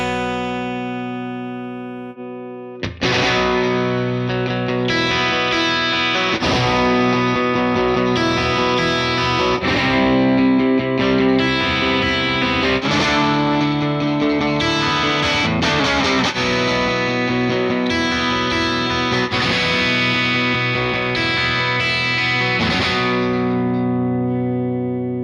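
Electric guitar through a UAD Ruby '63 Top Boost amp emulation, ringing chords and riffs played loud and up close with a slightly driven, chiming tone and no talking.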